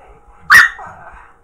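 A small, belligerent female dog lets out one loud, close bark, followed by a fainter trailing yip. No one speaks.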